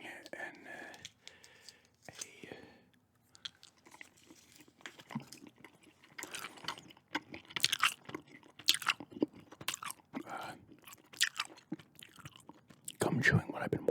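Close-up ASMR gum chewing, with wet, crunchy mouth sounds and bites coming in irregular bursts, alternating with soft, near whispered speech.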